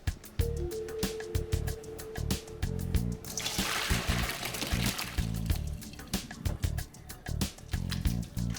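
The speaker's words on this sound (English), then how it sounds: "While that melts, I'm going to mash the potatoes. So I'm just going to drain them." Boiled potatoes being drained in a home kitchen: water pours and splashes steadily for several seconds, with clattering of the pot and a colander between the flows.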